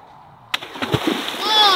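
A big, heavy rock thrown into water on a farm lands with a sudden loud splash, followed by sloshing and gurgling as the water settles and churns.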